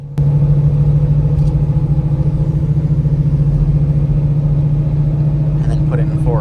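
Stick shift car engine running while driving, a steady low drone close by, with a person speaking over it.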